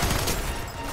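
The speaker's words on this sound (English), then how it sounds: "Looks like we can shoot him with bullets that come out of our guns." Dense automatic gunfire from the shooter FEAR 3 fills one short, loud burst, with rapid overlapping shots and no pauses.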